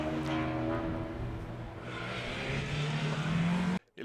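Mark 1 Ford Escort hillclimb race car at the Clare & Galway hillclimb, engine revving hard with rising, shifting harmonic tones as it accelerates past, loud and close before cutting off abruptly.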